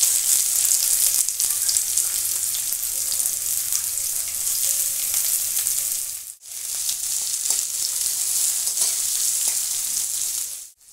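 Onions sizzle and fry in hot white oil in a wok, a steady dense hiss that runs loud and close throughout, with a brief drop near the middle before the frying resumes.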